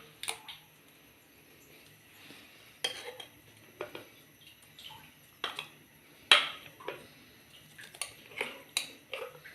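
Poppy seed paste going into warmed ghee in a pan for poppy seed halwa, heard as a low steady sizzle broken by sharp spoon-on-pan clinks and scrapes at irregular intervals, close up with no voices.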